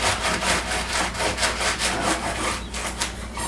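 A knife saws through the top of an artichoke in quick, rhythmic back-and-forth strokes, a close, crisp rasping repeated about ten times.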